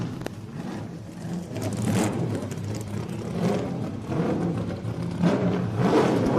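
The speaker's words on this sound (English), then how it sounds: "358 cubic inches of the angriest engine you'll hear pretty much all day out here" A NASCAR Cup race car with a 358 cubic inch V8 roars at a speed festival track after a push start, a loud, rough, sustained engine blare that swells and surges over several seconds.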